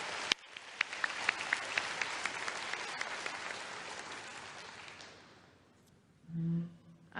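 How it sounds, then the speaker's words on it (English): Indoor applause from the audience at the Assembly of First Nations annual general meeting for the Secretariat staff, a dense crowd clapping steadily for about five seconds before fading, then a voice speaks briefly at the end. "Could we give them a round of applause for all the hard work?"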